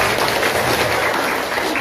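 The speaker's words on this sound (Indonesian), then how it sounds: "Tepuk tangan untuk para pemuda." A crowd at a Maulid Nabi gathering applauds the young organisers, producing a brief, loud, continuous roar of clapping that fills the space evenly without speech.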